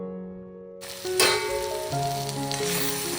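Leftover cooked rice stirred with biryani masala in a hot pan for a fried rice, a sudden loud sizzle breaking in after a quiet start, then steady frying hiss with scraping stirs, with music playing underneath.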